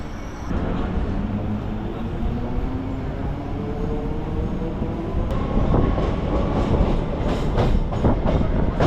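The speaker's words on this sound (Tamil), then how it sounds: "இப்போ ட்ரெயின் உள்ள என்ட்ரு ஆகுறதாங்க திருவல்லிக்கேணி ரயில்வே ஸ்டேஷன்" A Chennai MRTS suburban train pulls into Thiruvallikeni station, a loud, continuous rumble heard from on board, with rhythmic wheel clatter building toward the end.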